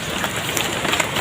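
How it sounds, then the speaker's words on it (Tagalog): Heavy rain at a fishing spot falls as a dense, continuous hiss of drops on surfaces, steady and close, with no talk. "Lakas ng ulan."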